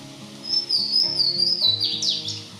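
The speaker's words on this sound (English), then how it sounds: "the sweet, boisterous song of the Louisiana water thrush echoed through the woods" A loud, ringing Louisiana waterthrush song of clear whistled notes slurs downward into a rapid twittering flourish, echoing through woods over a low steady background tone.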